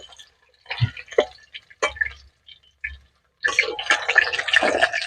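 Excess cooking oil is poured off from a pan, first as a few scattered drips and splashes, then as a sustained trickling pour near the end.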